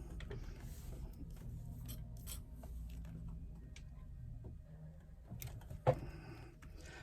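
A sewing machine stitches around an Uno wristlet, starting with a back stitch at the thick seam join. It gives a faint, steady low mechanical whir throughout, with one sharp click near the end.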